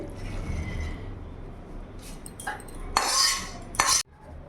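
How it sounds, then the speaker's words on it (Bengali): A pan of katla fish kalia is lifted off a gas stove, with metal scraping and a couple of clanks of cookware near the end, over a steady low kitchen hum. "এবার গ্যাসটা অফ করে মাছটা আমি নামিয়ে ফেলবো"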